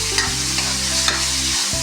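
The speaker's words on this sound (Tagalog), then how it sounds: "Roasted muna natin ang ating pork para lumambot." Pork roasting in a pan to tenderise it, sizzling and frying steadily with a few stirring scrapes, loud and close with no talk.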